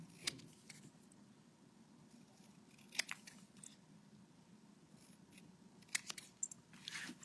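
Scissors trimming a paper word cut-out for a Christmas page layout, faint and close, with soft crisp snips at irregular intervals against a quiet room background.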